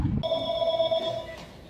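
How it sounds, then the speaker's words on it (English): A landline telephone rings at a bicycle shop, one clear electronic ring tone lasting over a second, fairly close, with faint room noise underneath. "It's an endless cycle of phone calls at Hub City Cycle from people all looking for the same thing."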